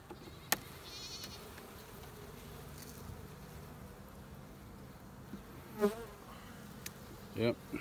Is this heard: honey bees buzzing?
yes